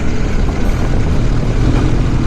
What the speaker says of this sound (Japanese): エンジンの吹き上がり音がですね、